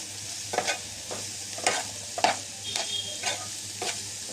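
Vegetables with half a spoon of chili flakes frying in a pan, stirred with a spoon: a steady sizzle under regular scraping strokes about every half second, close and fairly loud, with no speech.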